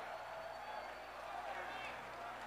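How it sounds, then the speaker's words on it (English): Boxing arena crowd roaring steadily after a Manny Pacquiao knockout win over Narongrit Piriyapinyo, a dense, sustained wash of cheering with no break. "And listen to that crowd dito"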